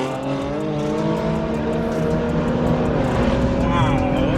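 A loud car engine roars steadily and close, its pitch rising and falling as it revs, drowning out any background sound.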